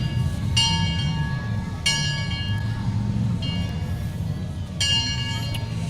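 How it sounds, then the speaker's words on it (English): A bell rings on the 40 and 8 parade train rolling through a Main Street Christmas parade, three clear clangs spaced a couple of seconds apart over steady crowd and engine rumble. "you could always tell when the carnival was at Riverside by the sound of that bell on that 40 and 8 train"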